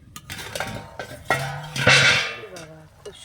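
A metal lid clinks and scrapes as it is lifted off a cooking pot of simmering ash gourd (chal kumro) and vegetables, with several close, sharp knocks and a brief rattle.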